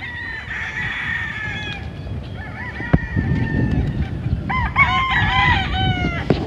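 Several gamefowl on a large breeding farm cluck and crow close by, overlapping loudly in a busy, continuous flock chorus.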